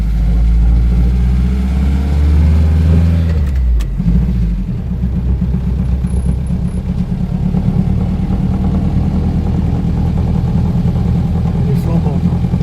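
A vintage Peugeot 203 rumbles steadily from inside the cabin, its mid-pitched engine drone continuous and fairly loud throughout, with a brief rise near the start and people talking over it.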